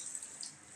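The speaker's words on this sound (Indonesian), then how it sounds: "Sekarang kita cek ya pada bagian keran di kamar mandi apa airnya mau keluar panas." A bathroom tap runs, sending a steady hissing stream of water with a bright, splashy edge, close and continuous for under a second, with no voices.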